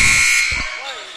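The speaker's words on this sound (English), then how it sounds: "the buzzer went off" Loud, steady electronic buzzer sounding during a varsity basketball game, a single sustained tone that fades slightly over about a second, with a brief thump or voice underneath at the start.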